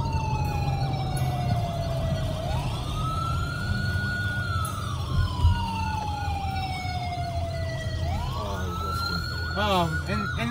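A police-style siren wails in long rising and falling sweeps during a pretend pursuit through Holland Park, loud and steady over a constant low rumble, with a voice talking faintly underneath.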